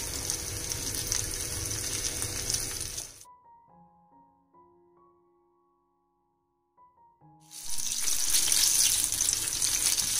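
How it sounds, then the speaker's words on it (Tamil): Paneer pakoda dropped a few at a time into hot oil, giving a loud, dense sizzle that stops abruptly for a few seconds of near silence with faint tones before the crackling frying resumes just as strongly. "நிறைய மொத்தமாக போட்டுடக்கூடாது, நாலஞ்சு நாலஞ்சு போட்டு இந்த மாதிரி ஃப்ரை பண்ணி எடுத்துக்கணும்"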